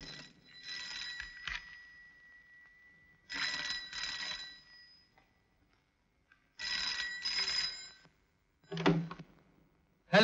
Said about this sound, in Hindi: जा जा, घंटी बज रही है।